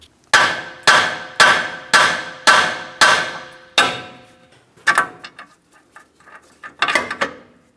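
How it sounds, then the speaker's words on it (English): Sharp metallic hammer strikes on a tie rod of a Ford Transit 250 van, six evenly spaced blows followed by a few lighter, irregular taps, close and loud with short ringing decay. "you can use a hammer. A couple light taps will cause vibration."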